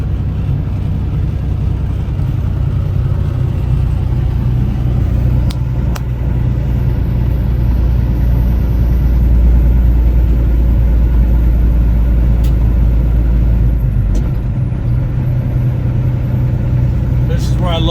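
A semi truck with a 13-speed transmission rumbles steadily with a low, continuous engine drone as it drops a half gear on a road past rock formations, loud and close throughout with no talk.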